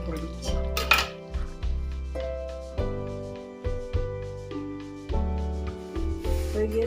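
A metal pot lid set down among kitchen pots and pans, a series of ringing clanks and clatters, each knock leaving a lingering metallic tone, close by and fairly loud.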